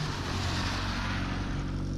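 A 1995 Geo Metro drives fast down a driveway with a continuous engine roar and broad road noise, loud and close for the whole moment, with no talking.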